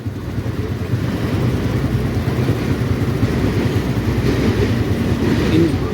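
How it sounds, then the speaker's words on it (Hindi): A train rolls past a closed railway crossing gate in rainy weather, its steady rumble and rhythmic clickety-clack of wagon wheels loud and continuous throughout. "ट्रेन आ रही है वो देखें। ये आ गई ट्रेन"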